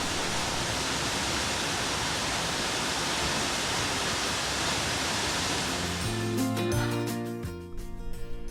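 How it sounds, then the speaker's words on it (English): Steady, loud rushing roar of Salt Creek Falls in Oregon fills the air, then briefly gives way to a tonal sound near the end. "But Salt Creek Falls, just look at it, amazing here."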